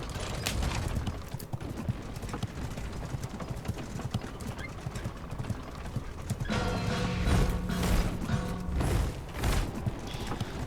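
Horse hooves clip-clop steadily in the video game Naraka: Bladepoint, with a neigh in the mix, and the hoofbeats grow louder and denser in the second half.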